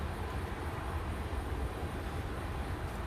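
A train rumbles past at a distance, a steady broadband roar that holds at moderate loudness for the whole stretch, with no voices.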